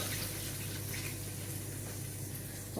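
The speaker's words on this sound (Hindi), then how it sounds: "अब इसमें हम पानी थोड़ा सा डालेंगे" Water pours steadily into a cooking pot holding chickpeas, rice and browned onions, a close, even splashing flow without talk.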